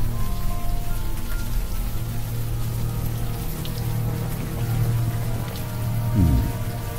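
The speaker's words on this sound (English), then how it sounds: "now that it's out in the open air, the warm rain is coming down." Warm rain falls steadily in the open air in the video game Unavowed, a dense, even hiss of drops on surfaces with a faint low rumble underneath, lasting throughout with no speech.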